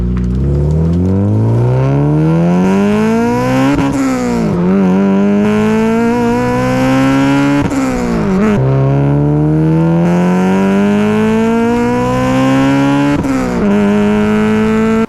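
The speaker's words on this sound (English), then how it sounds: "we've got this very rare AC Invo titanium catback. This thing sounds absolutely mental when you're on VTEC." A Honda Civic EG6 SiR-II with a titanium catback exhaust revs hard and loud on VTEC, pitch climbing steadily through the gears with brief dips at each shift, a raspy high-rpm howl up close.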